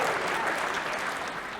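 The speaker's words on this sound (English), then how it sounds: "you're already clapping." Stand-up comedy audience clapping and cheering at a club set, a dense continuous burst of applause from many hands, steady in loudness for the whole short stretch.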